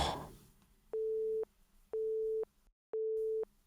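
Three evenly spaced beeps of a phone line's busy tone, each about half a second long, sound alone and fairly faint right after a call drops.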